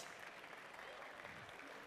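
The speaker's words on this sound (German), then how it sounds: "Einen Applaus!" Applause from the audience at a German convention award ceremony, a steady, fairly faint wash of clapping with no clear voices over it.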